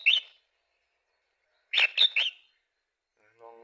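A rare wild bird sings in a quiet outdoor setting, one short chirp followed after a pause by a quick run of three bright notes, fairly faint and with nothing else sounding nearby.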